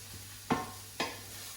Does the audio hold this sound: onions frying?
yes